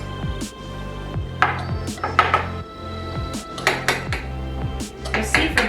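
A knife trims the excess edge off a butter pie dough crust for a caramel apple pie, giving several light scraping clicks and taps against the pan, close by, over a steady hum.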